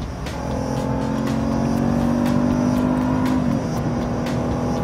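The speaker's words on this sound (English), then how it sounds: "makes the exhaust sound phenomenal" A supercharged Jaguar XJL engine revs and holds a steady roar, with exhaust rumble building and then easing off slightly, close and loud.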